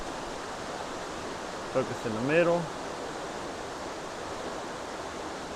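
Piney Falls waterfall in a Tennessee state natural area gives a steady, even rushing hiss throughout, with a person briefly speaking over it.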